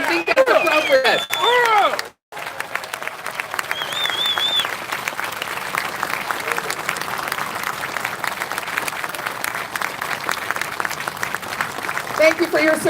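An audience stands and applauds veterans at a Veterans Day ceremony, sustained clapping filling most of the stretch after a brief pause near the start, with some voices mixed in.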